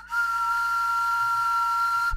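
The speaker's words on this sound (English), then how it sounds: "Where's my whistle?" A whistle blown in one long, steady, shrill tone lasting about two seconds, loud and close, with a faint low thump at the end.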